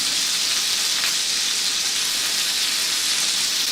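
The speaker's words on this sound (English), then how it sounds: "these are kind of frying a little bit fast" Breaded pork chops frying fast in hot grease in a pan on a stove, a loud, steady, dense sizzle and crackle that holds unbroken throughout with no talking.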